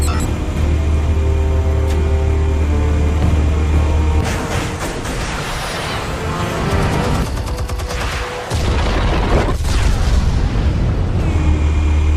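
Explosives go off in the Batman Telltale Series video game, Episode 1 Realm of Shadows: heavy, sustained booms and rumbling blasts under a loud score, with sharp cracks and a big burst near the end.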